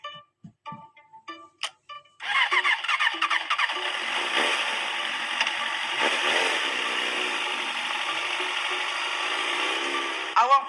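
A motorcycle filled with diesel at a petrol station fires up after a few short sputters, then runs in a continuous buzzing drone as it rides away, fairly close.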